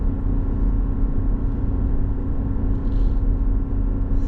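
A 2021 GMC Yukon Denali diesel SUV with a 4-inch lift, descending a long Rocky Mountain hill at about 3,600 to 3,800 RPM. Its engine gives a steady, droning high-rev hum inside the cabin throughout, with no talking.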